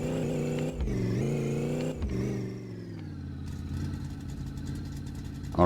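A car engine runs and drives close by, its harmonic drone rising and falling as it revs and shifts, then settling into a steady mid-pitched hum.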